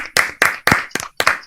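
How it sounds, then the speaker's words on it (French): A quiz-show audience claps for the final's winning contestant in a few short, uneven bursts of hand clapping, close and fairly loud, with brief gaps between them. "on peut applaudir Audrey"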